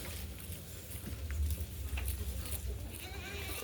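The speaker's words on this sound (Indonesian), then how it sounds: "Ini ada 4 jenis kambing yang Bapak budidaya ini" Goats on a goat farm raising four breeds bleat faintly over a steady low rumble of ambient noise, with no clear talk during the moment.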